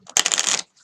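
A short, crisp riffle of Lenormand cards being shuffled by hand, one quick burst of papery flutter lasting about half a second, close and clear with nothing else around it.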